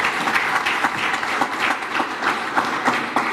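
Steady applause from a conference audience, a dense wash of many hands clapping continuously at even loudness with no speech over it.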